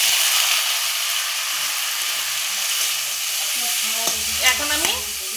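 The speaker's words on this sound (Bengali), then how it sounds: "এগুলো আমি এখন ফোড়ন দিয়ে নেব" Lentil and dhekia fern greens chorchori is tempered in a hot pan, giving a continuous close sizzle and hiss. Light stirring scrapes and taps come in near the end.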